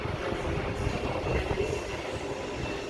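The DSP test train rolls along the rails at Sydney Central station, a steady rumbling wash of wheel and carriage noise that stays loud and even throughout with no pauses.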